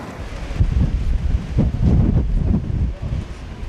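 Strong gusty wind buffets the microphone at Lisbon's Castelo de São Jorge above the cityscape, a loud continuous low rumble that surges and eases in waves throughout.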